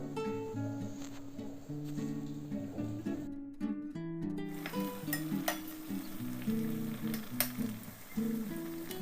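Bottle gourd vadis fry in hot oil with a faint, steady sizzle and crackle, sitting under sustained tonal background music.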